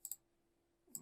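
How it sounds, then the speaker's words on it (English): A computer mouse clicks twice in quick succession, then once more a moment later, sharp, faint and close in an otherwise quiet room. "let's click on it"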